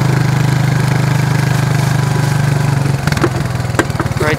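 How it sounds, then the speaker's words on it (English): A tractor engine runs steadily near an old hay trailer, with a loud, even putter that shifts and picks up a rattling, uneven beat toward the end. "Right there's my wonderful romping tractor."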